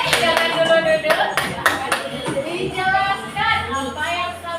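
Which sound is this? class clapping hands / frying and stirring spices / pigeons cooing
class clapping hands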